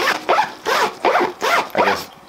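A zipper on a new camera and laptop bag is worked back and forth in five quick, rasping strokes, close and loud, each one a short scratchy pull with small gaps between.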